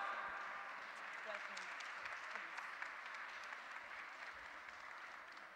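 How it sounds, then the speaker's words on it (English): Audience applause welcoming panelists at a World Economic Forum event in Portugal, steady dense clapping from a crowd, faint and distant, continuing for several seconds without letup. "A warm round of applause."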